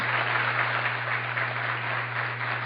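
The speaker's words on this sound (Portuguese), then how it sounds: "uma salva de palmas a ele, que tanto fez pelo Corinthians" Steady, muffled applause from an event audience honoring a deceased Corinthians figure, a continuous even wash of clapping with a low hum underneath, moderately distant and without voices.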